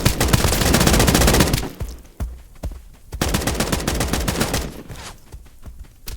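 Loud, close gunfire from the video game Escape from Duckov, long sustained automatic bursts broken by brief pauses and a few separate shots.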